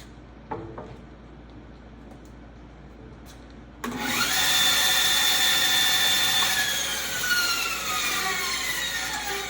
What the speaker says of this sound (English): we got a 1/4 inch blade on our larger bandsaw. Let's see if that helps.